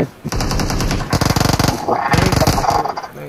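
Rapid automatic gunfire in a shooting video game streamed live, bursts of fast repeated shots filling most of the clip, loud and close, with a voice talking over it.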